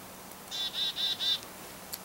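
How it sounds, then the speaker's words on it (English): A black-capped chickadee gives a short call of four bright, evenly spaced high notes, clear and close against a quiet background, with no talking. "Chickadee dee dee dee."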